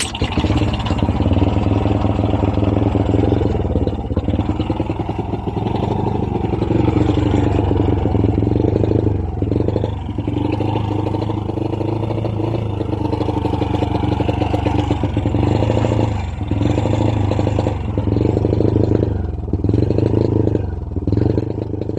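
A Honda Wave 100 motorcycle that struggles to rev and lacks power at full throttle runs close by, with a steady engine drone and several throttle blips that rise and fall.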